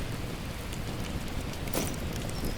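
Steady rain in the survival video game The Last Plague: Blight, a dense, even hiss of drops pattering on surfaces, with a low rumble underneath, close and continuous throughout.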